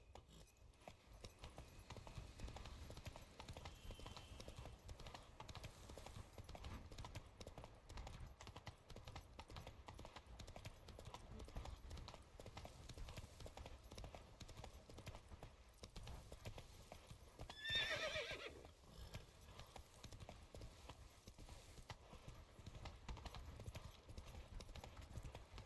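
Hooves of the horse Roach clip-clop steadily in Witcher 3 Blood and Wine, with a short loud whinny partway through over a continuous low game background.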